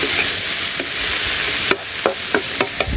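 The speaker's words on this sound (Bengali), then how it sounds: "এখন শুধু এইভাবে নাড়াচাড়া দিয়ে ভাজি করুন" Water lily stems are stir-fried in a pan with a steady sizzle and a series of sharp scraping and clacking strokes from the spatula toward the end, close and clear with no talk.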